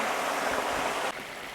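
Pieces of bullfrog drop into hot oil in a wok and deep-fry with a loud, dense, continuous sizzle that drops slightly in level near the end.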